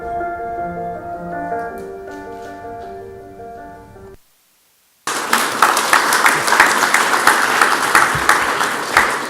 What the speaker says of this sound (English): Applause is appropriate.